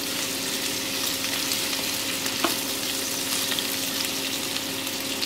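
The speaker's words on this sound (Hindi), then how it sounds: "4-5 मिनट तक हम इसे फ्राई करें।" Bitter gourd (karela) frying in oil in a pan, a steady, even sizzle and crackle throughout, moderately quiet with no voices.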